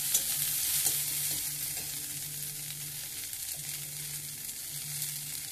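Onions with curry leaves and mustard seeds sizzle steadily in hot oil in a pan at close range, while a spoon scrapes and stirs them in bursts. No one speaks.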